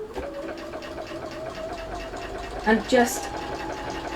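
A sewing machine stitching a boot bag hums steadily in the background while a person talks over it.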